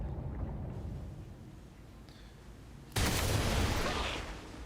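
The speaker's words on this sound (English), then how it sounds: "Wow, that was a big explosion." A big explosion blowing up a wall in the video game XCOM 2: a sudden loud broadband blast about two-thirds through, preceded by low rumbling and followed by a sustained roaring tail that fades slightly.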